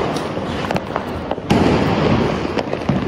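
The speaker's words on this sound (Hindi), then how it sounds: "अबे बाबू ये बड़ा वाला हाइड्रो बम है" A large hydro bomb firecracker goes off during Diwali celebrations, a loud sharp blast partway through amid a continuous crackle of other fireworks and firecrackers popping nearby and in the distance.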